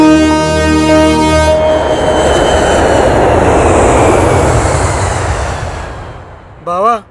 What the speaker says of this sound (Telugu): బావా ఫ్లైట్ వచ్చేసింది